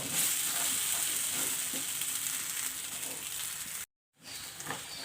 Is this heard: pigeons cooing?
no